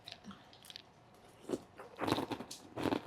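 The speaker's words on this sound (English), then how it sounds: "I hear the crunch." Crispy carnivore cereal being bitten and chewed close up, with several loud crunchy bites coming in bursts after a quiet start.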